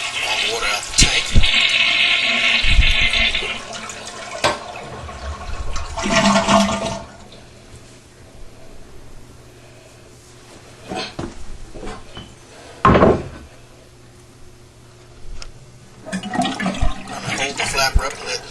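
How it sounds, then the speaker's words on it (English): A household toilet is flushed to drain the remaining water from its tank, the flapper held up; a rushing burst of water with clinking bursts, then a quieter stretch and a later short gush. "now let's flush the remaining water in the tank"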